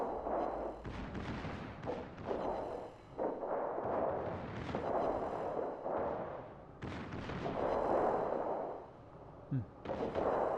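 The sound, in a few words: Schlieffen battleship secondary guns firing, from a video game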